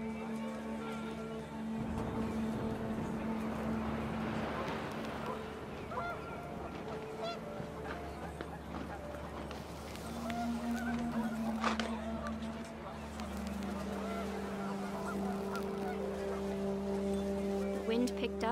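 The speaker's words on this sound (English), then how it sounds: "The wind picked up and panicked geese appeared and quickly went." Panicked geese honk repeatedly in What Remains of Edith Finch as the wind picks up. The loud, overlapping calls continue throughout over a rushing, windy background.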